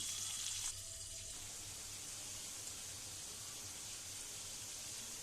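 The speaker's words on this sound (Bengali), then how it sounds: "এই যে আমার মুরগি ভাজা প্রায় হয়ে গেছে।" Chicken pieces frying in a pan give a steady, soft hiss of sizzling oil, faint and continuous with a brief clatter near the start.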